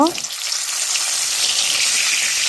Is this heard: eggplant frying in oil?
yes